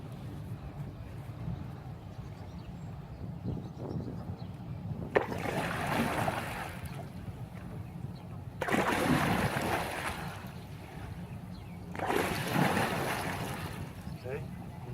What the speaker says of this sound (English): I'm going to paddle a little bit, emphasizing the press phase